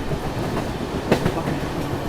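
A Bangalore–Anantapur MEMU train picks up speed, with a steady rumble of wheels on rail and a brief louder clack partway through, heard from inside the coach with no talking.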